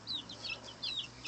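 Chickens cluck and chirp softly in short bursts, faint and close, in a quiet backyard during feeding.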